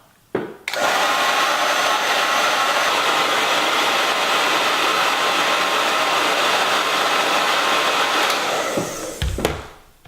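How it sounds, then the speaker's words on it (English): A hair dryer clicks on and runs at max heat with a steady, loud whooshing whir for several seconds, then winds down and switches off. "I'm going to turn this hairdryer on to max heat and just let it run"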